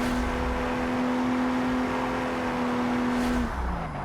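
A drag-build race car in BeamNG with a struggling gearbox, its engine holding a loud, steady high drone that drops in pitch near the end as the revs fall.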